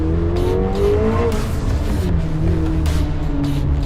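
A luxury supercar's engine roars from inside the cabin, loud and continuous with rising and falling revs and harsh gear-change surges.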